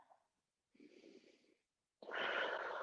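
Quiet breaths through the nose and mouth, a short exhale, a longer one, then a fuller, louder breath, close and unhurried.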